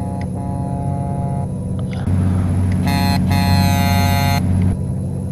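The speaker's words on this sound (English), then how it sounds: "Not the worst horn I've heard." A Freightliner Coronado truck horn sounds in American Truck Simulator over the steady hum of the engine, a loud, flat, tonal blast that holds for about two seconds before cutting off.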